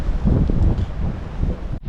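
Loud, steady wind buffeting the microphone at a harbour in Bhatkal where boats are anchored at the dock, a continuous low roar with gusty swells that briefly drops out near the end.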